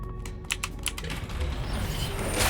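Clicky mechanical computer keyboard typed on during a Gunfire Reborn gaming stream, a run of sharp close keystrokes in the first second, then softer continuous clatter over steady background noise.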